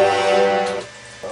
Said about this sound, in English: French horns.